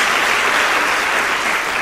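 A church congregation claps steadily and loudly as a dense wash of applause that holds even throughout, with no voices on top.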